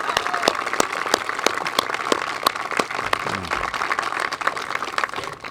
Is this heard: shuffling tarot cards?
no